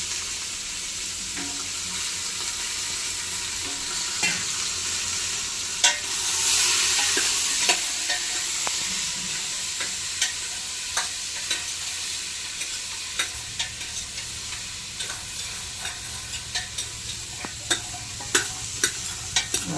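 Eggplant and potatoes fry in a pan for wedding-style masala rice, a steady sizzle running throughout with scattered clinks and scrapes of stirring; no one speaks.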